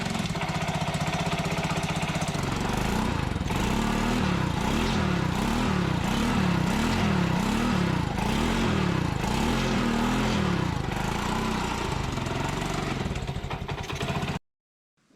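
A cheap snow bike conversion kit's small engine runs in gear with a steady, rapid, chugging pulse that rises and falls rhythmically. It is loud and close, with no talk, and cuts off abruptly near the end.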